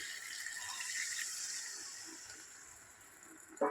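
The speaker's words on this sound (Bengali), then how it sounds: "এবার আমি জল দিয়ে দেবো।" Water poured into a cooking pot of spicy fish-roe curry, a soft, steady rushing splash that slowly fades, ending with a brief knock.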